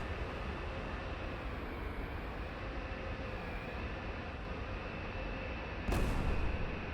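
Bombs released in a naval combat video game, a sustained heavy rumbling drone under a steady tone, with a sharp broadband burst near the end as a bomb strikes.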